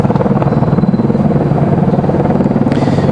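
A helicopter hovers near Raleigh-Durham International Airport, its rotor giving a loud, steady, rapidly pulsing thrum with continuous engine whine that holds evenly throughout, with no voices.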